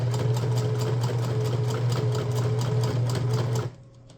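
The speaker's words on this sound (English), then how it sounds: "I'll line it up with my green line, and I'm going to back stitch, and then I'm going to go forward." Domestic sewing machine back stitching fabric on a rice-filled neck warmer, a loud steady mechanical whir with a rapid needle rhythm that runs continuously, then stops abruptly near the end, leaving quiet.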